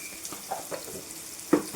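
Potato pieces with salt frying in a pan, a light sizzle under a series of spatula stirs and scrapes, with two louder clanks near the end.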